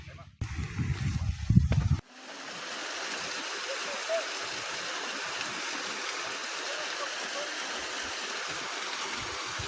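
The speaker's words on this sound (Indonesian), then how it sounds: "Air terjun" Steady rushing water of a waterfall and stream on Mount Papandayan, a broad continuous wash that sets in after about two seconds of louder talk and movement, then holds evenly for the rest of the clip.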